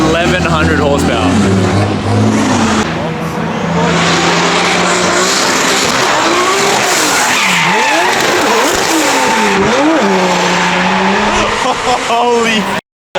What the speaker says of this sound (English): that is a Formula D car, like